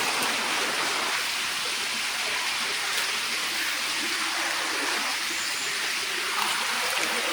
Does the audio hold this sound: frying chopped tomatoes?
no